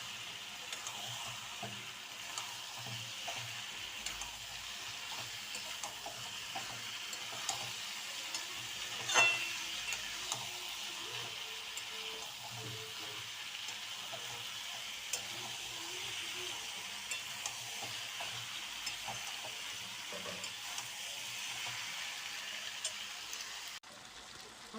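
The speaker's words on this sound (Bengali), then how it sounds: "আমি এখন ভাজা আলুটা ছেড়ে দেবো" Fried potatoes sauté in a pan with spiced oil, giving a faint, steady sizzle with occasional soft stirring scrapes throughout.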